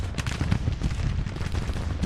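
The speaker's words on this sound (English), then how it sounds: "I think we're doing a lot of damage using our cannon." Cannon and artillery fire in a Grand Tactician Union campaign battle: a dense, continuous rumble of overlapping low booms and shots, loud and steady throughout with no voices.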